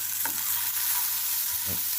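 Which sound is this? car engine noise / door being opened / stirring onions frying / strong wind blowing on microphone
stirring onions frying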